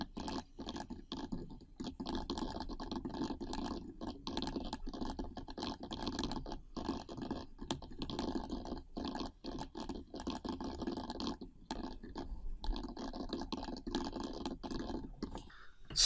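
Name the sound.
typing a blog post on a computer keyboard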